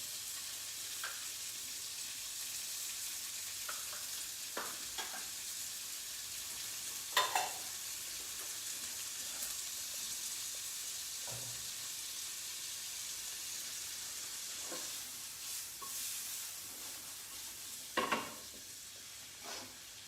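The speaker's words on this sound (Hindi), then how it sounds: "यहाँ पे हमारा जो वेजिटेबल्स हैं, रेड बेल पेपर अच्छे से हम कुक हो रही हैं" Red bell pepper and other vegetables sizzle and fry steadily in a pan, a constant close hiss with a few brief stirring clatters and no talk.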